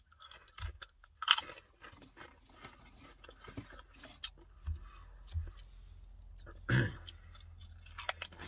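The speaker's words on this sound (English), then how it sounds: "Goes in, you're chewing it, you get that classic Pringle taste" Someone chews and crunches Pringles Hot Ones chips, green-coated and spicy. Soft, close mouth crunches and chewing noises come in scattered bursts, fairly quiet, with no talking.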